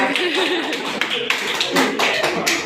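A classroom of students claps hands during a lesson on personal and environmental health, scattered quick claps and taps in short bursts mixed with a teacher's voice speaking.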